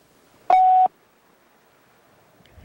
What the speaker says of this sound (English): Just a beep. Beep with no message.